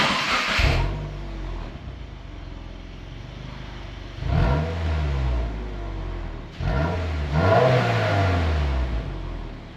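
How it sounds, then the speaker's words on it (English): Stock exhaust of a 2021-2025 Subaru WRX revved in place: three quick throttle blips, each rising to a loud roar and falling back to a rumbling idle, heard close with no talking. "We're just gonna give it a couple of quick revs, see how it sounds stock"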